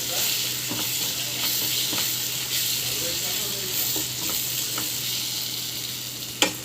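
Spices and curry leaves fry in hot oil in a pan, giving a continuous close sizzle with intermittent stirring scrapes and a sharp clink near the end.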